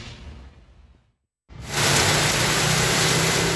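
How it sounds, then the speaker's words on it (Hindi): Heavy monsoon rain pours down in a loud, steady roar that starts suddenly after a brief moment of quiet and continues without a break. "मुल्क के मुख्तलिफ हिस्सों में जोरदार बारिशें"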